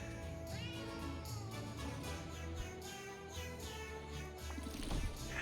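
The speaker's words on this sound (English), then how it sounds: "It's all meows." Background music made of cartoonish cat meows in the Potionomics game, a run of quiet, pitched mews repeating in a melodic pattern over soft instrumental backing.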